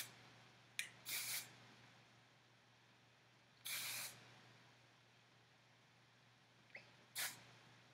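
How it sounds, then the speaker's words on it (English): Several short hissing bursts of aerosol hairspray, with pauses between them, over a faint steady hum in a quiet room. "After this, you can spray them a little more."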